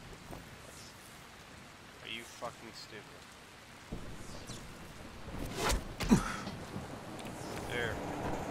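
Rain pours in the video game Dying Light, a continuous wash of drops that grows louder and heavier in the second half, with scattered knocks and thumps.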